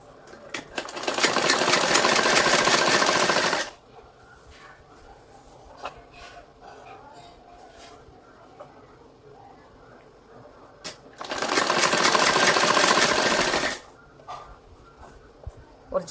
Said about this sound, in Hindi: और सीधी सिलाई लगाऊंगी आधा इंच के करीब